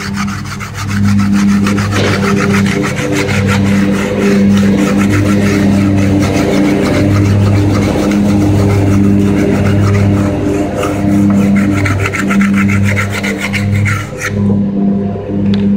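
Steady, rhythmic rasping of sandpaper rubbed against a wooden tomahawk handle, close and loud, continuing without pause, with the low hum of a lawn mower running underneath.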